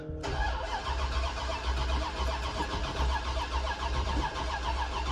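A truck engine cranks continuously with a rhythmic, labored churning from the starter but never catches, close and fairly loud.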